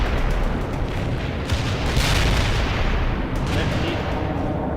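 Precision artillery fire in World in Conflict arrives as a dense, continuous barrage of rumbling blasts and booms, with a voice speaking briefly over it.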